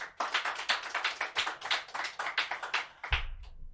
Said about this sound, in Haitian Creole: avec un bel applaudissement pour moi s'il vous plaît